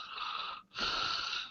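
Someone imitates two people softly snoring in their sleep, two hissy, wheezing breaths separated by a short pause, close and fairly quiet with no talk.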